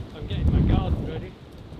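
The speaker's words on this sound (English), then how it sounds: "It's very windy." Gusty wind buffets the microphone with a low, rumbling roar that swells and eases over a couple of seconds.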